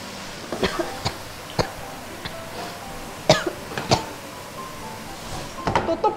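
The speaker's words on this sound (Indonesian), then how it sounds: "Langsung batuk anakku" A child's run of short, sharp coughs from frying fumes in a kitchen, scattered irregularly, with a tight cluster of them near the end, heard nearby over a quiet room background.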